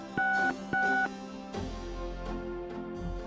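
Two short electronic keypad tones sound in quick succession as a phone number is dialled on a telephone interface in the adventure game Gabriel Knight: Sins of the Fathers, followed by a low humming line.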